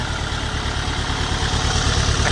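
A used 2009 Kubota L4508 tractor's diesel engine idles steadily up close, a continuous throbbing mechanical drone with even pulses and no talk over it.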